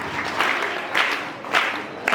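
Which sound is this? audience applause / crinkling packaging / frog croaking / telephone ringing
audience applause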